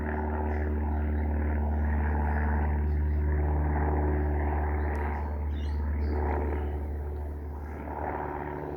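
A propeller aircraft flies over with a continuous, loud droning hum and strong low tones, fading gently toward the end.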